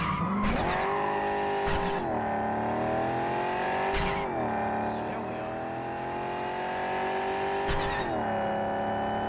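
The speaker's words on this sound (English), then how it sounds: "I feel like they made changes to the vehicle sounds" A car in the video game Cyberpunk 2077 drives with a steady engine drone that rises and falls. Tires skid and squeal several times over it, and a voice talks underneath.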